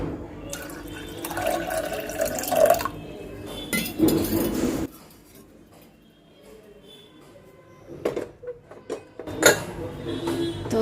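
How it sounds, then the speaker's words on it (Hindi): Soaked lentils being drained of their water in a pressure cooker, with clinks of metal and glass and bursts of pouring, splashing water that come and go between quieter gaps. "पहले इसका पानी जो है वो निथार दूँ।"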